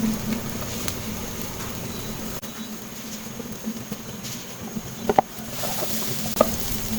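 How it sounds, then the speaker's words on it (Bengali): Washed rice goes into dal frying in ghee and oil for khichuri, a steady soft sizzle with stirring scrapes and a few sharp clinks near the end. "আমি ডালটা একটু ঘি আর তেলে ভেজে নিলাম"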